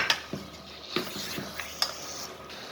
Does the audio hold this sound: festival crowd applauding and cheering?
no